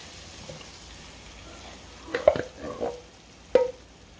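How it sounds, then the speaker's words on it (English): Whole canned tomatoes dropped into a hot, sizzling pan: a faint background hiss, then a few sharp splashy sizzles and clatters near the end. "Next, I'm going to add that can of tomatoes."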